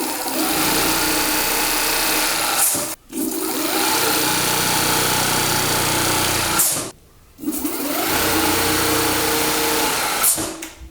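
An electric motor on a Mukuta 10 Plus scooter spins with no load, a loud steady whine broken by two short drops where it cuts out and then spins back up, close and alone.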